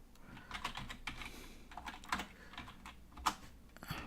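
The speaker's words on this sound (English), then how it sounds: "in terminal you should type here Java dash version" Close, quiet keystrokes tap on a Mac keyboard while a command is entered in Terminal, an uneven run of light clicks with a few firmer presses and no talk.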